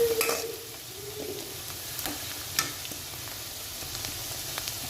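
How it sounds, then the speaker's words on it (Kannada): Onion and green chillies frying in a pan for egg rice, a soft steady sizzle with a few light scrapes and taps of a stirring utensil, fairly quiet and close. "ಚೆನ್ನಾಗಿ ಫ್ರೈ ಮಾಡ್ಕೋಬೇಕು ಈ ಆನಿಯನ್ನು ಮೆಣಸಿನ್ಕಾಯಿ ತುಂಬ ಚೆನ್ನಾಗಿ ಫ್ರೈ ಮಾಡ್ಕೋಬೇಕು"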